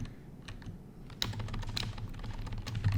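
Keys clatter on a computer keyboard as a pip3 install command is typed for a Python project, a steady run of close, fairly quiet clicks with no talking.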